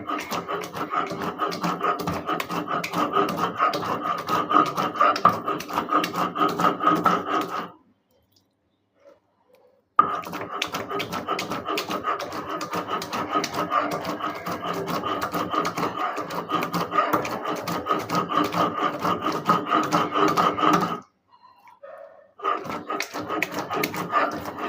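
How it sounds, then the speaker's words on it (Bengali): Ingredients for homemade ghee are ground by hand in a fast, rhythmic run of rasping strokes, close and loud, broken by two short pauses before the grinding resumes. "এটা আমি এখন ভালো করে বেটে নিচ্ছি।"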